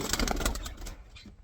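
Doves flap their wings in a flurry of soft, papery bursts as they fly back into a budgie aviary, with a faint coo among them. The wingbeats are close and busy at first, then thin out toward the end.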